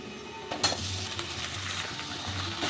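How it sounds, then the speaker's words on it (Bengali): Meat, added after onions browned deep red, fries in a pan for a Sunday special chicken dish; a quiet sizzle sits under clanking stirs and a few sharp metallic taps, with no voices. "মাংসটা আমি একটু ভেজে নেব।"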